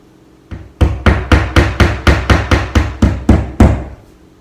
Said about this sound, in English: take a hammer and a decent sized nail with a head so I can pull it back out